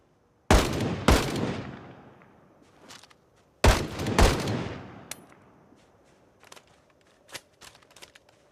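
Gunshots in Project Zomboid, two pairs of loud close shots each ringing out with a long decaying echo, followed by fainter scattered pops and clicks.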